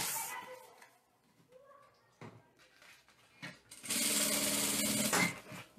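A sewing machine backstitches along the edge of a half-moon baby bottle holder, running in a loud, fast burst near the end after quieter handling noises and brief stitching.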